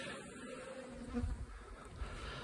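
Bees drift off stacked hive boxes set on clearer boards, a faint, low buzzing hum with a few louder passes nearby.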